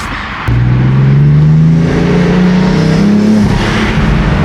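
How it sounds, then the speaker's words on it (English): A BMW F80 M3 leaps into hard acceleration after a sharp start, its engine note climbing loudly through the revs as the turbo kicks in, then easing off near the end. "Turbo kick in."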